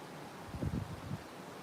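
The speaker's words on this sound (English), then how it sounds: "It's cold, very windy." Brief low gusts of cold Antarctic wind rumble against the microphone over a steady hiss, rising for a moment and then fading.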